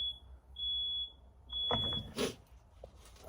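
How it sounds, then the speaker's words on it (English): A smoke-detector-style alarm sounds indoors, giving a few short, high, piercing beeps with gaps between them, followed by faint rustling and handling noises. "My alarm is ringing."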